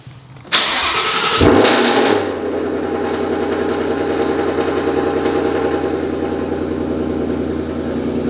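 A car engine with a Roush catback exhaust cranks and roars to life with a loud rev, then settles into a steady, deep idle that rumbles on.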